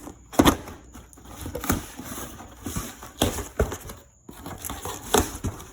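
Cardboard package box being cut open one-handed, with scattered scraping, crinkling and tearing bursts at close range, irregular and uneven in rhythm.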